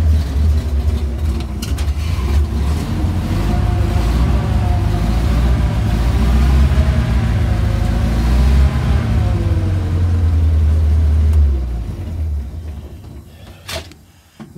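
Old Farmall tractor engine running steadily with the choke pulled, a loud low rumble with shifting harmonics that holds for about eleven seconds before dropping away near the end.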